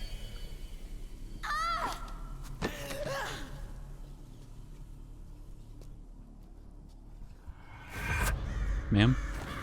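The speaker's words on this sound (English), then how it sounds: "The birds are pecking at my flesh!" Crows cawing in short harsh bursts from a Metal Gear Solid 4 game scene, two calls early and a louder cluster near the end over a steady low background hum.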